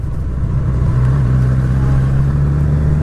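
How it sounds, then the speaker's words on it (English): A car passes on a country road during a motorcycle ride, its sound merged into a loud, steady engine drone and road rumble that swells slightly midway and continues without a break. "Comes a car now."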